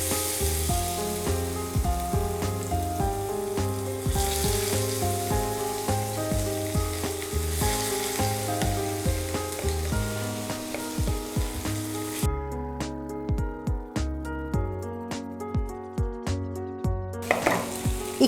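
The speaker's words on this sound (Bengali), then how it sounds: "তেল গরম হয়ে গেছে। এই পর্যায়ে আমি ম্যারিনেট করা মাছগুলোকে দিয়ে দিচ্ছি।" Marinated rohu fish pieces frying in hot oil in a pan for crispy fried fish, with a dense, loud, steady sizzle and crackle throughout, a thinner spattering patch toward the end, and no voices.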